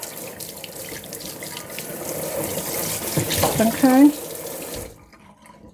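Tap water runs steadily into a kitchen sink while a spoon is rinsed under it, the flow swelling near the end before cutting off; a brief spoken word comes over the water.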